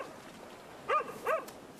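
A dog that has been left behind whimpers twice, giving short, faint, high whines about half a second apart over a quiet background hiss.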